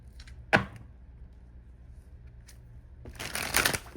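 Tarot cards are shuffled in two brief riffling bursts, one near the start and a longer one near the end, with quiet between them and no voices.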